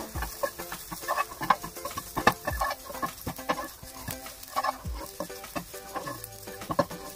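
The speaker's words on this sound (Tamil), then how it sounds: "இந்த வரமிளகாவோட பச்சை ஃப்ளேவர் போகிற வரைக்கும் நம்ம வந்து இதை வதக்குவோம்." Dried red chillies sauté in a pan over low heat, giving a soft, close sizzle broken by repeated scraping and clinking as they are stirred and tossed, with no one speaking.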